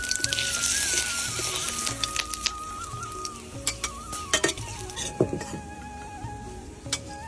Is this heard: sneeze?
no